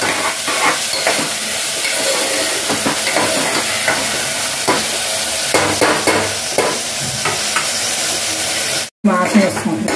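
Mutton frying in plenty of oil in a pan, a steady loud sizzle and hiss with occasional stirring scrapes, briefly cut off near the end before the sizzling resumes.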